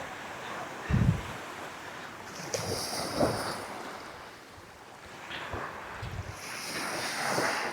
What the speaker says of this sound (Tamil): அலை வந்து ரொம்ப சாஃப்டாக தான் அடிக்குது, ஒன்றும் வேகமாலாம் அடிக்கலை.